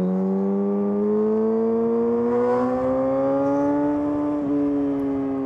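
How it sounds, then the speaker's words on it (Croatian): Yamaha R6 motorcycle from 2008 fitted with an Akrapovič exhaust accelerating, its engine note climbing steadily in pitch for several seconds with a brief dip near the end, loud and close with no talking. "Samo da vidite kako ubrzava motor."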